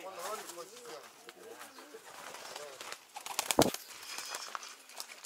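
Pigeons coo softly in a steady low murmur outdoors in Tashkent, Uzbekistan, with a brief sharp flutter or thump partway through and people talking nearby.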